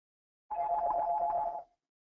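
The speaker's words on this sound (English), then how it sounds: "Uh-oh, the phone's ringing." A telephone gives one steady, tonal ring of about a second, clear and close, with no other sounds around it.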